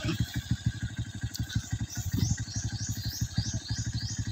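A motorcycle engine runs steadily close by with a rapid, even low throb and a light rev, and no voices over it.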